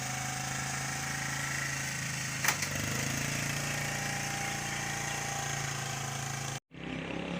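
A cold motorbike engine struggling to start on a sunny winter day: a steady, continuous mechanical drone runs throughout with a brief knock near the middle, then cuts out abruptly before a noisy rumble resumes.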